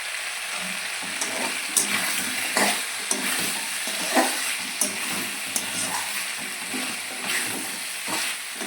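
Chicken with potato and cauliflower being stirred in a frying pan, soft sizzling under repeated clinks and scrapes of a spatula at an even, unhurried pace, fairly quiet and close.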